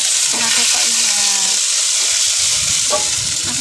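Food frying at a street vendor's stall, a steady broadband sizzle filling the whole stretch with occasional stirring clatters and faint voices in the background.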